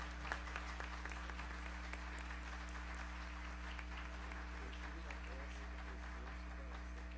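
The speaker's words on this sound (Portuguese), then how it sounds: "uma salva de palmas" A round of applause rises in a plenary hall during a solemn session of the São Paulo legislative assembly honoring Dr. Zilda Arns, with soft, distant clapping over a steady electrical hum.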